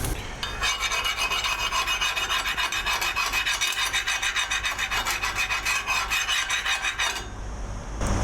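Flux core weld spatter scraped off steel with a thin metal piece: a continuous, close, gritty rasping scrape with a fast repeated stroke rhythm, steady and fairly loud, with no talking.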